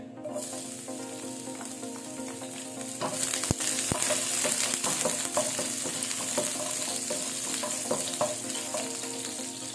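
Garlic dropped into hot cooking oil in a kawali, a quiet hum that jumps into a loud, steady sizzle with stirring clinks, close and without talk.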